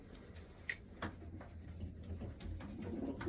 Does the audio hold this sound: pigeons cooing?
yes